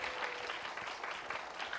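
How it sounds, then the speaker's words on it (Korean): Faint, distant clapping from an audience at a summer camp concert rolls on steadily in quick, uneven bursts for a couple of seconds. "큰 박수 부탁드립니다."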